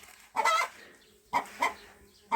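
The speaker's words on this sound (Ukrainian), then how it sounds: "Куриця розкричалась." A chicken clucks loudly in several short bursts separated by pauses, close by against a quiet background.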